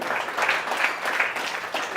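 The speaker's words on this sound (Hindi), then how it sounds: "एक बार जोरदार ताली अजय भाई के लिए" A crowd at a live stand-up comedy show breaks into loud, dense applause, steady rapid clapping from many hands filling the room.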